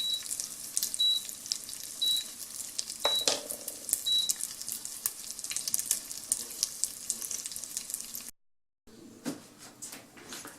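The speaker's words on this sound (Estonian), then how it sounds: "Nii, praadimine" Food sizzles and fries in a Ploff multicooker, a steady crackling hiss close by with scattered pops and occasional short electronic beeps, broken by a brief silence near the end before the sizzle resumes.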